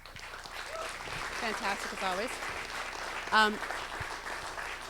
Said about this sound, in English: Let's also applaud our great moderator